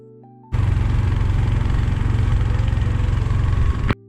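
A boat engine on a trip to an island starts abruptly and runs loud and steady with a rough low throb for about three seconds, then cuts off suddenly.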